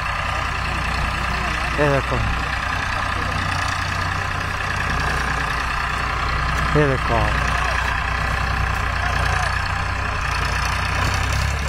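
Farmtrac 45 tractor hauling a heavily loaded trolley up a gravel slope, its engine a steady, continuous low drone throughout while someone talks over it.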